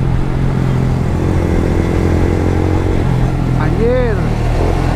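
A motorcycle speeds along a narrow road in Cikarang, Bekasi, its steady mid-pitched engine drone continuous and close, with traffic noise around and a brief rising pass near the end; people talk over it.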